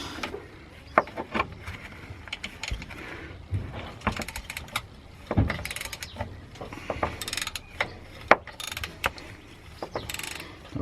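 Ratchet working on anti-roll bar bolts of a car, giving scattered clicking and mechanical ratcheting bursts at close range with clanks of tools, no talk.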